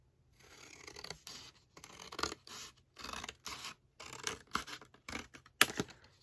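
Folded paper cut with scissors, close and quiet: a series of short crisp snipping and scratching strokes in an uneven rhythm, with brief pauses between cuts.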